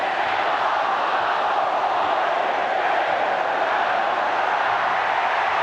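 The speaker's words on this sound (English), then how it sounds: "And listen to the crowd." Steady dense roar of a large stadium crowd in the closing seconds of a 1983 State of Origin rugby league match, continuous and unbroken with no distinct voices standing out.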